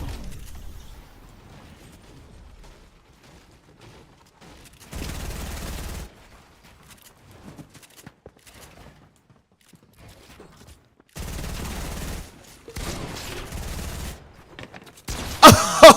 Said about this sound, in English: I missed all my SMG shots, but I hit all my pumps